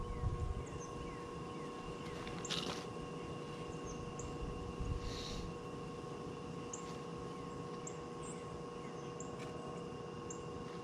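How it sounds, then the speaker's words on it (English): A forge blower for heating a kiridashi blade gives a steady, close roar with a low hum, continuous throughout with a couple of faint clicks above it. "Turn our blower up a little bit."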